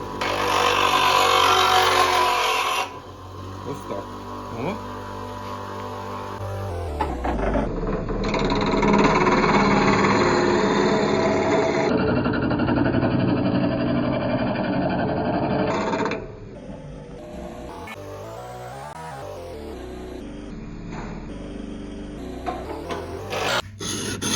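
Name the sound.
sharpening grafting-tool knives on a sharpening machine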